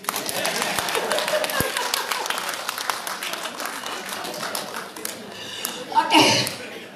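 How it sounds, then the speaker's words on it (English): Audience clapping at an oil and gas forum in Miri, a scattered patter of hands that thins out toward the end, with a short burst of chuckling and a voice near the close. "Why not clapping?"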